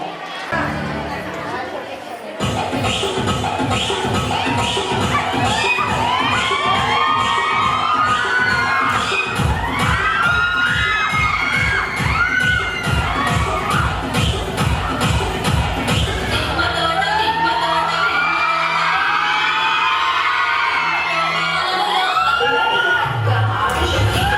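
An audience at a district youth festival in a hall claps rhythmically and cheers, with children shouting and crowd chatter throughout the loud, dense applause.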